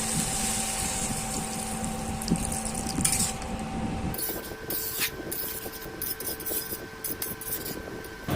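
Water pours into a pan of potato and green jackfruit curry (echor kalia) in a home kitchen, a steady splashing rush that swells noticeably partway through, with no talking.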